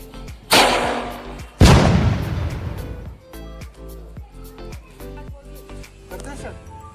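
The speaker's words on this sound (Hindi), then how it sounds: "ये बम बहुत ही धमाकेदार था।" Doraemon firecracker bomb set between two bricks, going off as one sharp bang followed by a much bigger loud blast that rolls off over a second, then smaller thumps and clatter.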